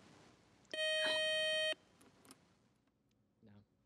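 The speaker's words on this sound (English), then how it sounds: "that buzzer means one more toss-up round ahead" A quiz show buzzer sounds once, a loud steady electronic tone held for about a second, followed by faint studio noise and a brief voice.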